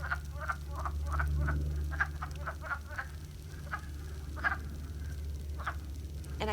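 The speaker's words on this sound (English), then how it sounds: "My friends, that's the sound of the wood frog." Wood frogs calling in spring, a chorus of short, clucking croaks repeating in loose clusters, fairly near, over a steady low rumble of background noise.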